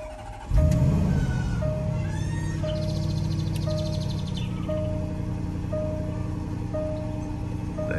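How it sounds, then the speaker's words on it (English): A Range Rover Sport supercharged V8 with standard exhaust cranks and fires up abruptly, then settles into a loud, steady, rumbling idle close by, with a faint repeating chime over the top. "I'm just going to start it up so you can hear the noise it makes. It's the standard exhaust."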